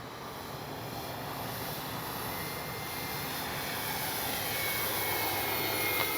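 A CNHL Super Tucano RC airplane passes low and slow with landing flaps down, its motor a steady broadband whine that grows slightly louder as it approaches.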